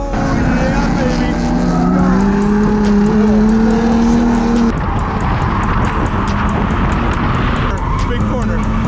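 A BMW E46 drifting on a grassroots track, its engine roaring loud and close with a rising whine, then bursts of tire squeal and skidding as it slides through a corner; a voice talks over it.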